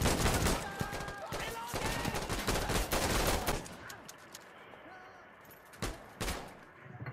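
Gunfire in the shooter game Insurgency Sandstorm: rapid bursts of automatic fire crack loud and close, then thin out to scattered single shots further off, with a voice talking over the shooting.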